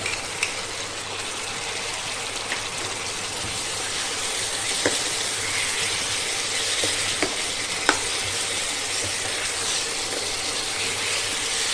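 Tomatoes frying in a pan for vegetable biryani, a steady broadband sizzle with occasional scrape-and-clink strokes as they are stirred, continuous and fairly close, with no talk.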